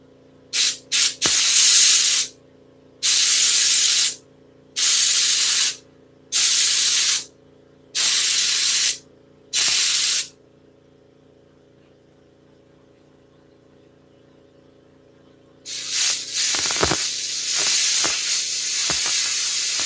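Compressed air blasts rust out of a 1965 Coppertone Schwinn Varsity bicycle rim in six loud, sharp hissing bursts, each about a second long. A pause follows, then a longer, sputtering blast closes the sequence.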